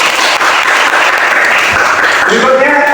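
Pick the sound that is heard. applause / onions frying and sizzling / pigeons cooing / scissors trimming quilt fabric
applause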